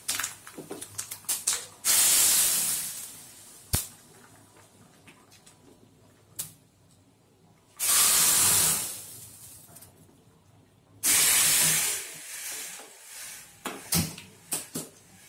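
Curry leaves hit hot oil in a tempering for sambar, giving three loud, hissing sizzle bursts of a couple of seconds each, separated by quieter clinks and kitchen noises.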